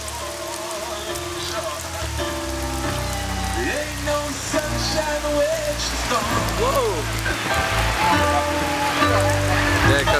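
Rain falls steadily in Jamaica, a dense, continuous patter on surfaces mixed with music playing and occasional voices throughout.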